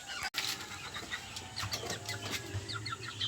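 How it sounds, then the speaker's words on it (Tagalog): Rooster and chickens on a small backyard poultry farm clucking in short, repeated bursts at moderate distance, with scattered higher calls over a steady outdoor background. "Ito naman yung ating tandang."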